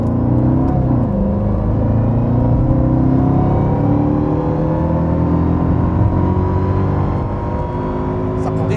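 High-revving engine of a Mercedes McLaren SLR, heard from inside as a loud, sustained drone with rising pitch, continuous throughout with no pauses.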